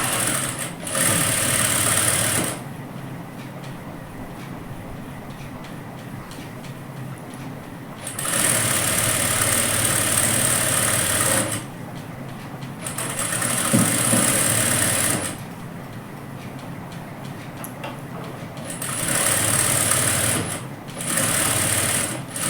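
Sewing machine stitching a seam on palazzo trousers, close and loud rapid mechanical whirring in four bursts of several seconds each, separated by quiet pauses.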